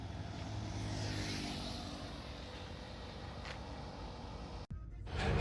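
A car cruises along the NH 733 highway near Nainital, giving a steady, fairly quiet road and engine drone from inside, with a brief dropout near the end before the rumble swells again.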